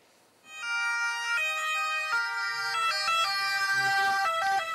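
An ambulance siren wails loudly nearby in Casamicciola, Italy, after a landslide, its two-tone stepped pitch alternating rapidly and continuing throughout.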